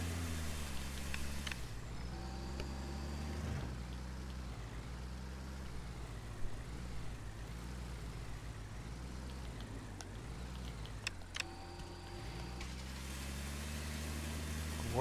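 A farm tractor engine in the Pure Farming 2018 video game hums steadily for the whole stretch, shifting pitch as it revs, with a few faint clicks over the drone.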